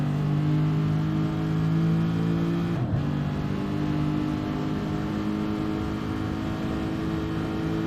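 A Porsche GTE race car roars around Bathurst in a sim-racing endurance event: a loud, sustained engine drone with a quick pitch drop at a gearshift or braking point, then a steady hum.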